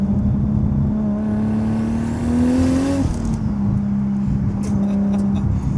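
A 700 hp Mk4 Toyota Supra engine pulls hard and loud, its pitch climbing steadily through acceleration before a brief shift, then settling into a steady drone.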